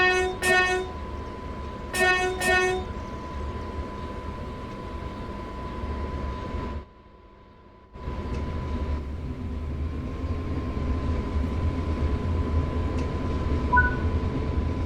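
Electric locomotive on the Bremen–Oldenburg line in Train Sim World 3, a steady low traction-motor drone with a constant whine, opening with two bursts of a multi-tone horn, a brief near-silent gap, then the hum resuming loud.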